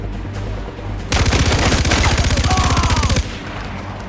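A loud, sustained burst of rapid machine-gun fire in the video game Far Cry 4 rattles for about two seconds, with quieter background noise before and after.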